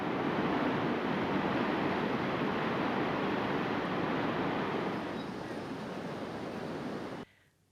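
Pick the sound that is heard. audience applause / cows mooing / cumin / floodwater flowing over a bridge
floodwater flowing over a bridge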